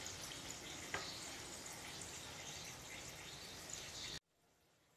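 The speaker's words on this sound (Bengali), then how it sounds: "এটো আমি অলপ ভালদৰে ফ্রাই হবলৈ দিম" An egg pocket paratha fries in a pan with a steady, close sizzle that runs unbroken for about four seconds, then cuts off abruptly into near silence.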